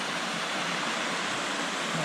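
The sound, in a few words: shallow water cascade flowing into a small pool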